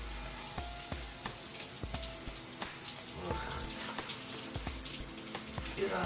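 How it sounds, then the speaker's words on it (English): A shower runs steadily with a continuous broadband hiss of falling water, marked by scattered soft knocks and taps from someone moving under the spray. "I'm just gonna jump in the shower."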